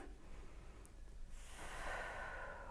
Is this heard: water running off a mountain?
no